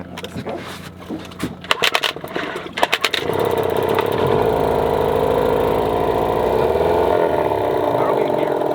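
A 20-year-old boat outboard motor sputters through a few uneven coughs, then catches and settles into a steady, loud running drone that holds to the end.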